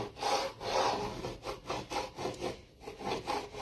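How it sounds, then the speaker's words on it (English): A tool scrapes across a dry painted print surface in quick, rhythmic back-and-forth strokes, about a dozen close, rasping passes with no talking. "So now I'm going to go through and I'm just going to scrape it."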